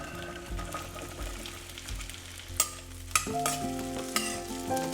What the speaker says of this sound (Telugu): ఇప్పుడు ఇంకొంచెం ఆయిల్ వేసుకొని దొండకాయలు వేయించుకోవాలి